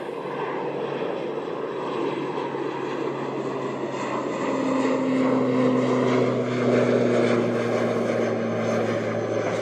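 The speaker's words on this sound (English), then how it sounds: "Little ATR going off to Tauranga there" A small ATR turboprop airliner departs Christchurch Airport for Tauranga, its propeller drone steady and moderately distant, swelling slightly louder partway through with no voices.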